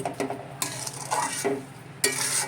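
A spoon stirs a coconut and sugar mixture in a pan for fresh coconut naru, with scraping strokes and a light sizzle. The sound comes in several close bursts with short pauses between them.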